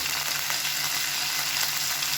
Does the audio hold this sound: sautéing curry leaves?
yes